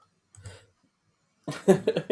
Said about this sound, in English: Cough choke.